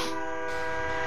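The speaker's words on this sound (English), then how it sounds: "Train is coming." Train in L.A. Noire Remastered sounding its horn, a loud, sustained multi-tone blast close by over low rumbling.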